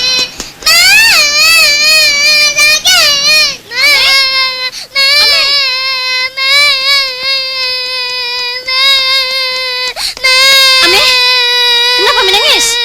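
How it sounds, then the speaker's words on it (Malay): A young boy cries loudly and continuously close to the microphone, sobbing with wavering wails and brief catches of breath, with a few short gaps between the crying. "Kenapa menangis?"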